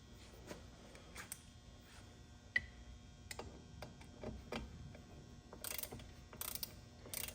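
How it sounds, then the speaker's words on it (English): A torque wrench ratchets in short bursts while crankcase bolts are tightened on a Stihl 066 chainsaw. The pawl clicks are close and rhythmic, with occasional louder clicks and metallic handling sounds, and no one speaks. "I always hand torque with the torque wrench, crankcase bolts, muffler to crankcase, cylinder to crankcase."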